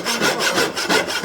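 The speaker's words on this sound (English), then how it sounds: "it's harder to cut this way with the smaller teeth" A handsaw with small teeth cuts through wood in a Japanese custom furniture workshop, giving close, rhythmic rasping strokes, about four back-and-forth pulls heard alone.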